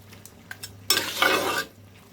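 A spoon stirs taro leaves with white mustard powder in a pan, a few light clinks leading into one close, scraping stir lasting under a second, then quiet again.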